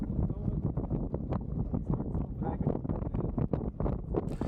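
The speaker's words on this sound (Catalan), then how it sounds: "El vent, que abans ens empenyia amb força, ara ens ve gairebé de cara." Wind buffets a sailboat at sea off the west coast of Jura in Scotland, loud gusty rumbling close to the microphone in uneven surges, with possible talk mixed into the blustery noise.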